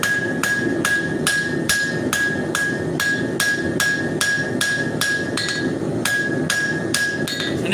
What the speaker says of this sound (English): Doing a talon preform. The reason I'm doing this is because I want to forge that bevel